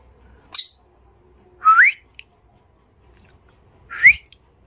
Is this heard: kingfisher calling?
yes